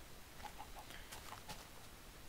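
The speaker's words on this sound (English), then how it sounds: "Chickens." A Minecraft chicken gives a few faint, scattered clucks in a jungle area of the video game, heard quietly over a soft background hiss.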